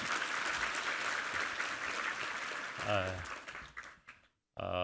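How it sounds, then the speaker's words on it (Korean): A church congregation applauds a conductor and chamber ensemble with a dense wash of clapping. The applause thins out, and a voice briefly speaks over it near the end. "우리 정영근 지휘자와 우리 챔버팀 한번 격려의 박수 한번 해드리겠습니다"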